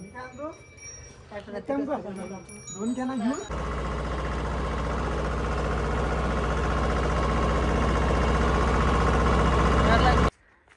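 On a farm in Akola, Maharashtra, voices talk briefly, then a loud tractor engine rumbles in a steady, even drone for several seconds before cutting off abruptly.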